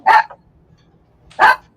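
Dog barking twice, sharp loud barks separated by a pause of over a second, close by with quiet background and no talk.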